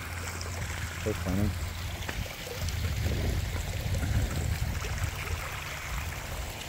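Water in a backyard pond flows and trickles steadily from a slowed-down pump, a soft continuous wash with a voice speaking over it.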